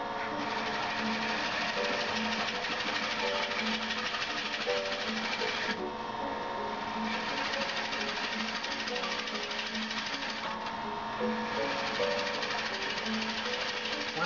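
Wood lathe spinning a bowl near 350 RPM while a tool cuts, a constant buzzing, rattling drone with a brief lighter patch midway, steady and close, no talking heard.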